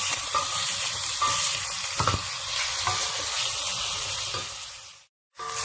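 Lamb pieces fry with onion in oil for a Tunisian eggplant stew, a continuous bright sizzle with occasional scraping stirs of a spoon in the pan, close and alone, then a short cut near the end.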